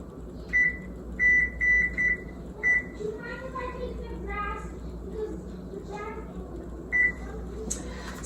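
A kitchen timer set for bread dough rising gives a run of short high beeps as its buttons are pressed, with a person talking over and between them.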